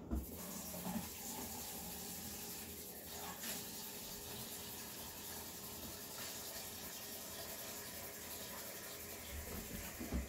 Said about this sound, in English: get it in the sink filled with water so it can clean itself up